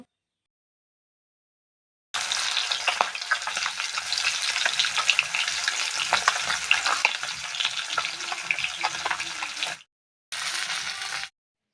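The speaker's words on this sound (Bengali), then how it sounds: "আমি এইভাবে সব মাছগুলো ভাজা করে নেব" Pieces of bata fish fry in hot oil in a pan, a loud steady sizzle with crackling spatters that stops abruptly, then returns briefly.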